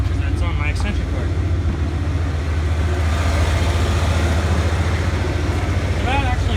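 A Ford F150 pickup, freshly fitted with a swapped transmission, rolls slowly forward with a steady low engine rumble close by, and a person talks over it throughout.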